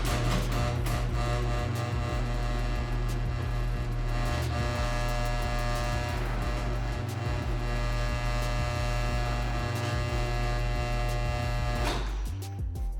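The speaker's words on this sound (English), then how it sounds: "then we're gonna test our button we programmed" A garage door opener motor runs with a steady electric hum and buzz for about twelve seconds before cutting off near the end, close and without talk.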